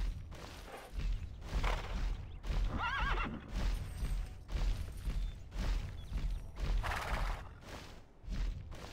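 A horse in the video game TERA Online whinnies loudly over a steady clip-clop of hooves, with the neighs rising and falling across several seconds while the trotting rhythm continues throughout.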